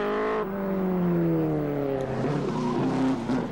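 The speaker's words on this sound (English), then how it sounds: "Courtney there, number 74 in the Cooper Bristol" Post-war racing cars, a Lotus and a Cooper Bristol, roar past at Silverstone, loud engines with rising and falling pitch as they go by and shift, heard close and continuous.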